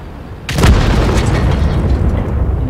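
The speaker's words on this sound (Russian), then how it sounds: "взрывчик хороший. Бум." A loud explosion bursts out in a World of Tanks battle, a sudden broadband boom followed by a sustained rumbling roar that lingers at high level to the end.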